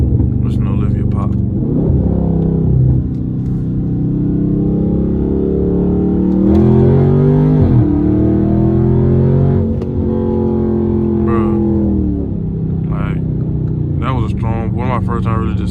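Dodge 392 Scat Pack launching in cold weather, its engine roaring and climbing through gears with shifts and surges, loud and close, over about fifteen seconds with revs falling and rising again.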